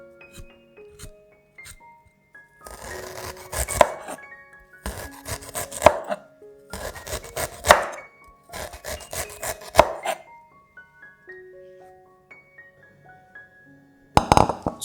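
Knife chopping peeled ginger into slices on a board: several bursts of quick, rhythmic chopping strokes separated by quieter pauses with faint tonal background music.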